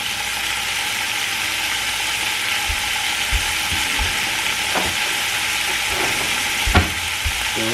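Garden green beans fry in a pan with a steady, close sizzle, broken by occasional knocks and scrapes of a spatula stirring them.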